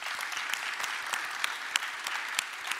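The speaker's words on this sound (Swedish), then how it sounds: "En stor applåd till alla faktiskt här." An audience claps at a Swedish business gala and prize ceremony in Uppsala, a fairly faint but steady patter of many hands with a few sharper individual claps standing out, and no voices over it.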